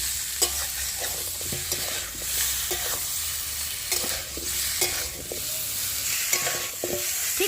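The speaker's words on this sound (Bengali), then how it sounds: "এখানে কিন্তু প্রত্যেকটা জিনিস দেওয়ার পরে কিন্তু 3 মিনিট হাতে ধরে কিন্তু ভেজে নেব" Chicken pieces fry with spices for a chicken stew while being stirred by hand. A constant sizzle runs under repeated scraping and knocking stir strokes against the pan, with no talking.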